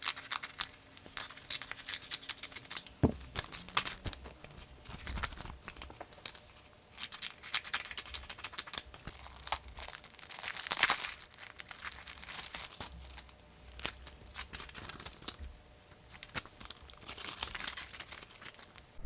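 Paper being handled to prepare small envelopes by hand, with continuous close crinkling, folding and rustling in uneven bursts, occasional sharper tearing, and no talking.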